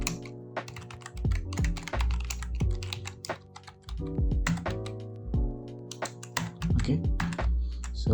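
Steady typing of code on a computer keyboard, dense close clatter of keys with short pauses between runs, loud and continuous with no talk.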